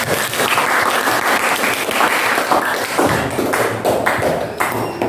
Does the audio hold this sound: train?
no